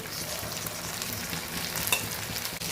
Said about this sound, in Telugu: ఇవి బాగా ఒక పక్క వేగాక మళ్ళీ తిరగేసుకుంటానండి నేను.